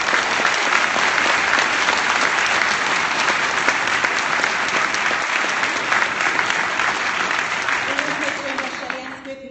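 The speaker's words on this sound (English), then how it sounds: "and that should be applauded." An audience at a Labour party Q&A event in Colchester applauds in a long, dense wave of clapping that slowly fades, a voice emerging faintly at the end.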